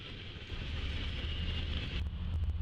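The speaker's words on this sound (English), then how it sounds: "338, a southbound manifest train" A southbound manifest freight train rumbles steadily at moderate distance, a continuous low drone with a faint hiss above it, then sharper metallic clanks near the end.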